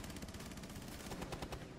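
Rapid gunfire from a Rainbow Six match rattles in a fast continuous burst, faint and distant-sounding, with no speech over it.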